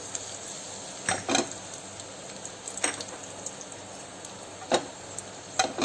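Dried red chillies crackle in hot refined oil, giving a steady low sizzle with a few sharper pops and bursts scattered through, close and fairly quiet, with no talking.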